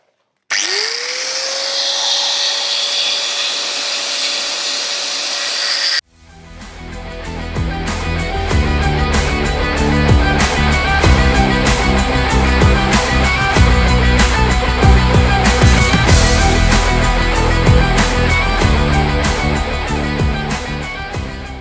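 An angle grinder spins up with a whining tone, then bites into old trailer metal in a loud, continuous harsh cutting roar with rattling grit. The cut holds steady for over fifteen seconds, close to the listener.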